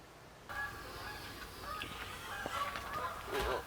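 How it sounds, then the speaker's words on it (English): Faint goose honks ring out intermittently against a hushed outdoor backdrop, distant calls rising a little toward the end. "Geese are flying south."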